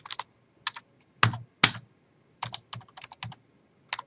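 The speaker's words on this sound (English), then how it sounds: "And now what I'm going to do is type in my search terms here." Short bursts of keystrokes on a slightly wonky computer keyboard as search terms are typed in, clicking in irregular clusters with pauses between words, crisp and close in a quiet room.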